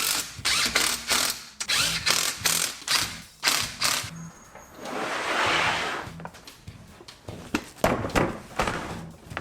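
A ratchet wrench with a 13mm socket works the seat hardware on a Suzuki Samurai, giving loud, close bursts of rapid clicking in repeated strokes, broken by a short stretch of duller scraping.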